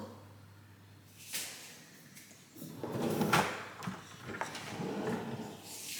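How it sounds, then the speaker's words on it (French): Kitchen drawers in a home under renovation slide open and shut, giving a few distinct wooden thuds and sliding rasps, close and moderately loud, with no talk over them. "Là, c'est les tiroirs. Il y a 3 tiroirs."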